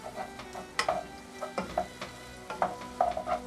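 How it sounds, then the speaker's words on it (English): Chicken pot pie filling stirred in a pan after adding water and arrowroot starch, quiet bubbling and sizzle with intermittent spoon scrapes and clinks, close and fairly soft. "And mix until combined"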